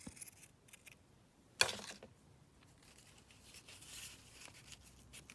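Scissors cut paper for a handmade journal booklet: one sharp, close snip stands out against a quiet room, followed by faint rustling and light handling of the paper.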